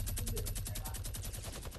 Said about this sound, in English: Yo, they're shooting from the base